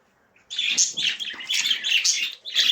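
Sparrows kept in a communal aviary chirp in quick, busy bursts, several birds twittering together close by with brief pauses between clusters of calls.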